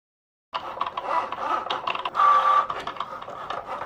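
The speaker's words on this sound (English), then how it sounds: "for these 2 words I'm going to use the black vinyl, so I'm just going to get this out and set it up in my Cricut machine" A Cricut cutting machine slices black vinyl with a whirring, buzzing motor hum. It starts abruptly after a short silence and shifts through uneven pulses as the blade moves back and forth.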